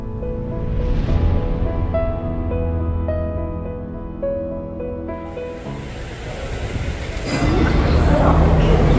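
A train running from Colombo to Kandy in Sri Lanka gives a steady loud rumble that swells into heavier rushing noise, under music and a voice.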